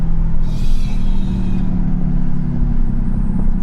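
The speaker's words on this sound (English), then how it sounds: "Here's your exhaust brake." A Cummins diesel truck with a Hamilton cam and lifter conversion runs its exhaust brake on the road, a loud, deep, steady rumble and drone heard close, with a brief airy rush early on.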